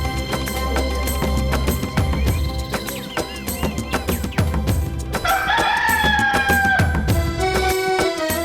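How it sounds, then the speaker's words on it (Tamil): A rooster crows loudly and repeatedly nearby while a chicken is carried, with clucking and flustered fowl calls mixed in and music running underneath. "ஏ புள்ள மஞ்சு, இதென்ன இந்த பிள்ளை கோழியை குழந்த மாதிரில தூக்கிட்டு போகுது?"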